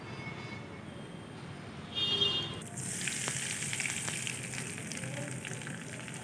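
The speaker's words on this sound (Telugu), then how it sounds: "పచ్చడిలోకి పోపుని వేసేసుకుందాం." Hot tempering of oil and curry leaves poured into ivy gourd and tomato chutney, a brief clatter, then a sudden sharp sizzle that settles into a steady crackle, close and alone.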